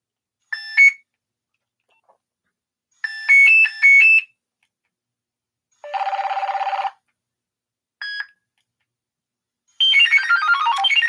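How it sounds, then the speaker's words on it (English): A simple old cell phone ringtone called Rise and Shine plays as short separate bursts of electronic beeping tones, then a buzzing tone and a descending sweep of chimes, loud and clear with silent gaps between. "Rise and shine ringtone."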